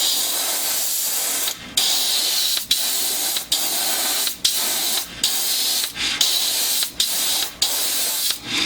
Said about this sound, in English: This version actually shoots through an airbrush really nicely.